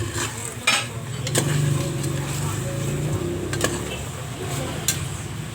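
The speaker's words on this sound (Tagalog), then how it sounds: "Igisa lang natin mabuti yung chicken. Mix again." Chicken being sautéed and stirred in a pan for tinola, with utensil scrapes and clinks against the pan over a low background, a few sharper knocks standing out, and a voice speaking at times.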